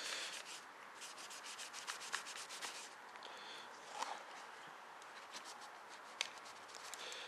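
A SIG Sauer P226 pistol part is rubbed down with a cloth during cleaning, giving a continuous soft, close scrubbing hiss with small scratchy strokes and occasional light taps, steady and quiet throughout, with no speech.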